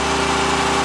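Chainsaw engine running steadily at a constant pitch while splitting wood, a loud, close, unbroken drone with no voices.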